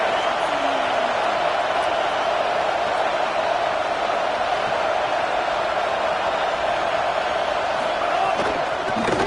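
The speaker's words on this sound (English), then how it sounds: "Third down play in the red zone, and this crowd is at fever pitch." A college football stadium crowd at Arkansas vs USC roars steadily and loudly on a red zone third down, one continuous wall of noise with a commentator talking over it.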